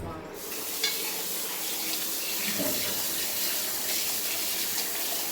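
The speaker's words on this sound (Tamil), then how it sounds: "ஃபஸ்ட்டு வந்து ஒரு தண்ணியில் நல்லா அலாசிடணும்" Tap water runs steadily into a sink, a continuous splashing gush with small shifts as raw chicken is rinsed under the stream.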